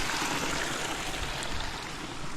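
Irrigation water pours into a flooded rice paddy, a steady broadband rushing and gurgling flow that holds even and fairly loud from start to finish with no voices.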